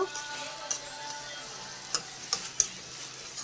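Thinly sliced onions frying in oil for an egg tomato curry, with a soft steady sizzle under a few light ticks and clinks of a stirring spoon, close by and without speech.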